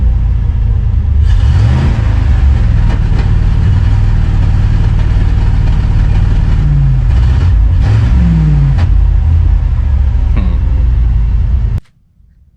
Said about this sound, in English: So that sputtering was pretty similar to the GMC when it got its fuel filter clogged